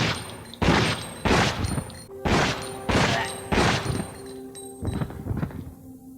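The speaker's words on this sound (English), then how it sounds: "Let's test the handgun HP on a zombie and compare to the other handguns." The HP handgun in a video game fires about six or seven loud, evenly spaced shots at a zombie, each a heavy booming report with a short ringing tail.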